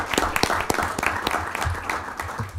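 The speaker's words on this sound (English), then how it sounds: "Family, another round of applause." Audience applause fills a Lincoln city council meeting as family members are honored, a dense, steady patter of many hands clapping close by for the whole stretch.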